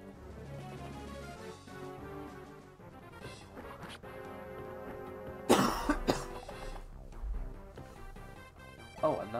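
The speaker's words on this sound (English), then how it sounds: "And also, I coughed" A single loud cough bursts out, followed by a smaller one near the end, over steady video game background music.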